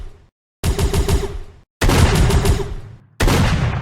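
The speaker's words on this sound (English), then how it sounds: "I'm gonna stop talking because the shotgun's kind of loud" Loud shotgun blasts from a first-person shooter game, three heavy booming bursts each with rapid rattling decay, separated by short silences, with no talk over them.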